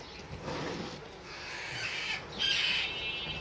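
Faint, high-pitched squawks from young plum-headed parakeet chicks, a few harsh calls rising and falling over quiet background noise.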